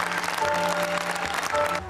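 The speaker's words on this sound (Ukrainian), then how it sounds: "Оплески серед шоу лунають раз по раз." Audience applause during a theatrical stage show premiere, brisk clapping from the spectators under music and a narrating voice.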